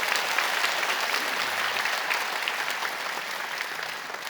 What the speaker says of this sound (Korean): 여러분 크게 박수로 환영하시죠